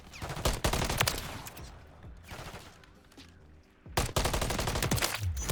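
Gunfight in MW3 ranked play, with rapid automatic gunfire in close bursts, a quieter lull with faint movement in between, then another sustained loud burst of shots.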